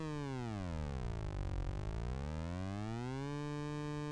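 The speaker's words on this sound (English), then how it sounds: "You can hear now the oscillator of the 1027 sequencer module." A Behringer 1027 sequencer module's oscillator drones steadily as a buzzy, harmonic-rich tone, its pitch sliding smoothly down and then back up before settling, with no talk over it.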